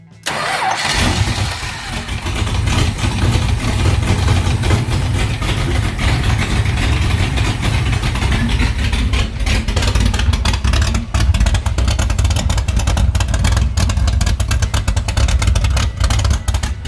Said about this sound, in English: I even managed to get its engine running.